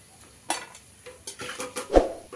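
Fried carrot being scooped into a bowl after frying in ghee, with a few clinks and scrapes of utensils against the dish, one sharp knock near the end, close and fairly quiet.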